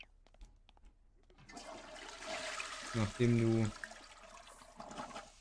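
A toilet flushes in The Sims 4 with a short, loud rushing gush of water, preceded by soft game ambience while someone talks briefly over it.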